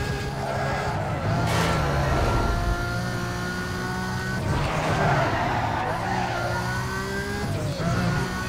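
A car in the racing game Need for Speed Most Wanted slides and skids through a corner, its engine droning steadily with tire noise swelling in loud bursts throughout.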